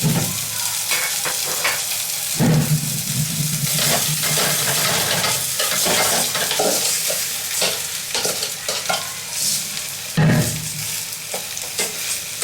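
Rice for a Bangladeshi vegetable pulao is stirred and fried in a pot with cardamom, ginger and garlic, giving a loud close sizzle with repeated scraping strokes of a spatula and occasional clinks, no talk.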